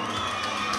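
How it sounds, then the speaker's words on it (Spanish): At a school beauty pageant, the Reinado de la Dulzura at Institución Educativa Santa Rita, the crowd gives a brief burst of applause mixed with cheering and children's shouts, heard at a distance. "para quien pide un fuerte aplauso"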